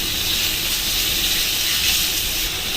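Pork slices frying in a pan for yakisoba, a steady close hiss and crackle of sizzling fat that holds at an even level throughout with no pauses and no talking.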